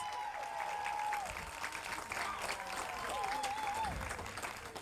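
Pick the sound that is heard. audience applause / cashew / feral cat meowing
audience applause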